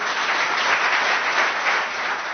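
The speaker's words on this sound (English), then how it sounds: "I have to my right, and please give them a round of applause as I welcome them, Dr. Subramaniam Swamy," A crowd applauds with dense, continuous clapping throughout, loud and sustained with no voices.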